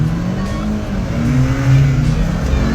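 Several cars, including a BMW and a Chevy Sonic, accelerate together on snow on winter tires, engines droning and rising in pitch at steady, moderate loudness, with faint talk underneath.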